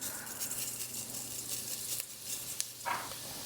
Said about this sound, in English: I'm just going to give a little sauté to our whole spices to get those flavours going